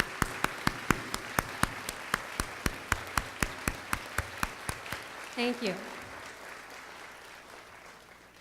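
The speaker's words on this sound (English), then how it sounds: "Let's give them a round of applause" Graduation audience at a law school ceremony applauding faculty members who stand: steady, sparse claps ring out for about five seconds, then fade into a quiet hall where a voice speaks briefly.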